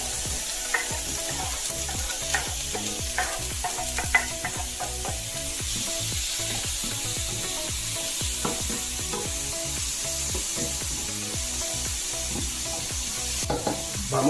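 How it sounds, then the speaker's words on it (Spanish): Chopped tomato and vegetables sautéing in a frying pan for a linguine sauce with clams, mussels and serrano ham, a steady close sizzle broken by frequent scraping stir strokes throughout, with no talking. "Todo esto que ya lo tenemos picado lo vamos a llevar a nuestra sartén para sofreír."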